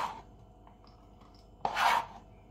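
Two garlic cloves are prepared on a board, with a brief scrape at the start, a few faint taps, and then a louder rasping crush lasting under half a second, all close by with no talk.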